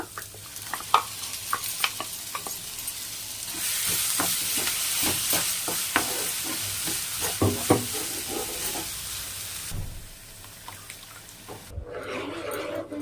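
Onion and tomato sautéed with ground masala paste in a pan, a soft continuous sizzle under frequent clicking spoon strokes against the metal, with no talking.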